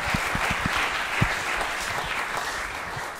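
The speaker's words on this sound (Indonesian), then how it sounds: "Tepuk tangan buat mereka berdua" A stand-up comedy show audience in Bandung applauds a duo after their final stage performance: a dense, steady wash of clapping with a few sharp, heavier claps near the start, holding level for about three seconds.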